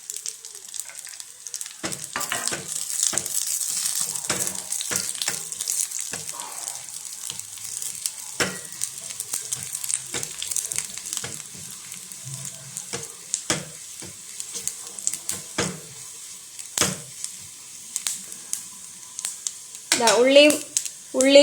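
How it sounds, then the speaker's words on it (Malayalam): Shallots and dried red chilies fry in a pan for a cucumber and jackfruit seed curry, with a continuous crackling sizzle broken by stirring clicks and scrapes that grow louder near the end. "ഉള്ളിയും മുളകും എല്ലാം നന്നായി മൂത്തിട്ടുണ്ട്."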